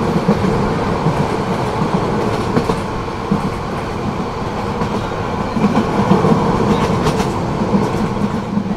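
The Sonar Bangla Express, running from Dhaka to Chittagong, rumbles along the rails as heard from inside a carriage, a loud, steady roar with rhythmic clickety-clack of the wheels and no talk.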